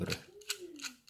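Locking pliers having their small adjusting screw tightened, giving a few faint, sparse mechanical clicks and ticks spaced through a quiet moment.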